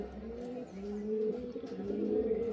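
A pair of Malbai pigeons cooing nearby, soft low throaty coos repeating in a rolling rhythm, faint and close, with no voices.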